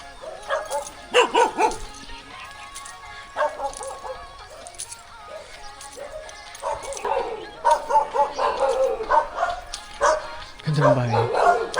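Dogs bark and yip in repeated bursts, fairly close, at a house near Binday Dam in the Philippines, mixed with background voices and a whining, whimpering note near the end.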